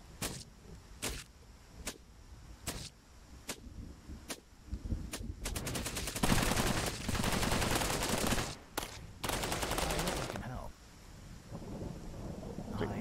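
Turret gunfire in the Cepheus Protocol video game during an overrun in pandemic mode: sharp single shots spaced apart, then a loud sustained automatic burst with rumbling booms, tapering into a few more bursts.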